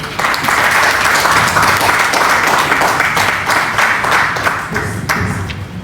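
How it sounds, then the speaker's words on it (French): A seated audience at a national trading day event applauds steadily, a dense, loud wash of many hands clapping that holds evenly for several seconds before thinning slightly at the end. "Acclamez s'il vous plaît pour lui."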